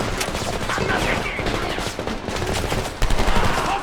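Rapid automatic gunfire from the war shooter video game Homefront, dense overlapping bursts of machine-gun fire, loud and close, continuous through the whole stretch, with a sharper burst near the end and faint voices underneath.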